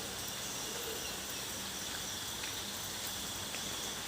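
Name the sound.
rain falling, still raining since last night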